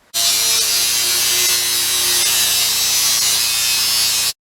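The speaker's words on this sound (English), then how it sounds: "I've got the grinder here, so I'll at least get this tin cut this evening" An angle grinder cuts a sheet of tin during a diesel heater install in an RV, a loud, steady, high-pitched whine that runs unbroken and then stops abruptly.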